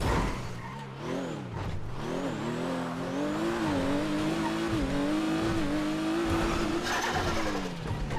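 A car driven in the game GTA V on a FiveM server, its engine droning steadily and rising and falling in pitch as it revs, with tire noise throughout and no talk over it.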